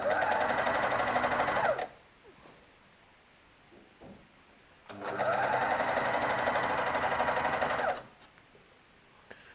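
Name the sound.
household sewing machine stitching hemp fabric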